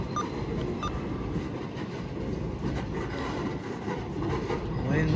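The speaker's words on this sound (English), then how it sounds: "So it's a pretty big train again today." A freight train on the Hamilton Northwestern Railroad switching cars at a co-op siding rolls past close by, a steady heavy rumble with wheel clatter and faint metallic squeals rising toward the end, with a voice speaking in the background.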